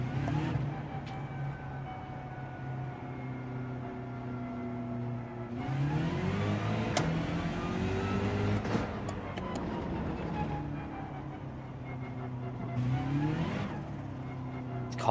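Race car engines in the Gran Turismo 7 video game on the Nordschleife, a steady whirring drone with rising and falling revs as cars accelerate and pass, continuous and fairly loud without talk.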